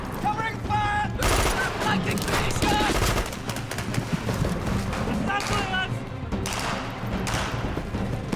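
Gunfire in a battle scene from the 2002 British horror film Dog Soldiers, a loud, dense fusillade of rapid shots and thuds under shouting voices, sustained throughout with brief surges.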